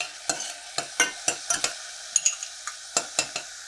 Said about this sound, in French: Donc on y va avec les oignons en premier.